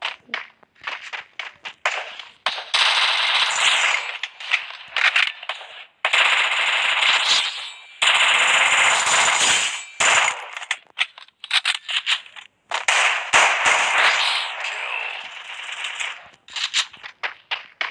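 Loud, close gunfire from the video game Free Fire, with repeated rapid automatic bursts and single shots separated by short gaps, and occasional quiet voices beneath.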